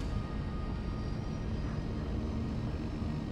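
A seaplane roars at full throttle on its takeoff run from a harbor seaplane base, a dense, steady, loud engine and propeller rumble with no voices over it.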